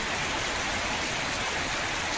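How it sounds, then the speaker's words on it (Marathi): Dense, steady downpour with thunder reported, a loud wash of heavy rain hissing on surfaces without pause, in Chaul, Alibag, India. "आज धुवाधार पाऊस असा चौल विभागात"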